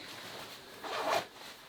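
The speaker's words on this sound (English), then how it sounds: "Pit zips are typical 686 pit zips." The pit zip on a 686 Hydrastash Reserve insulated jacket is run along its track, giving a quiet, brief zipping rasp that rises to one louder pull near the end, with no voices.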